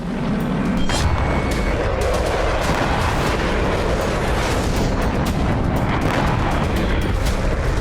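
Explosions in Gaza, a dense, continuous roar of blasts and rumbling booms with sharp cracks layered throughout, loud and sustained without pause.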